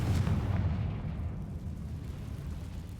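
A Confringo fire spell from Hogwarts Legacy erupts in a loud, close blast at the start, then rolls into a deep, rumbling roar that lingers and slowly fades over several seconds, with no voices.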